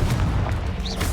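Confringo blasting spell going off in Hogwarts Legacy, a dense booming burst with heavy low rumble sustained through the moment, loud and close amid game action.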